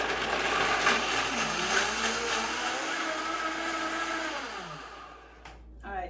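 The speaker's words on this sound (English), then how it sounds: "So we are ready to go ahead and blend this dressing." A blender whirs loudly and steadily, processing cashew ranch dressing, its motor pitch wavering and rising as the mixture smooths out before cutting off near the end.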